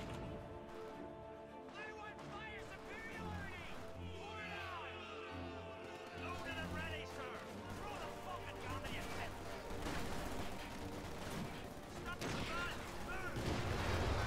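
Heavy machine gun fire rattles in Company of Heroes 2 amid a chaotic battle, with bursts of gunfire, explosions and shouted unit voices layered under a continuous din, with talk over it.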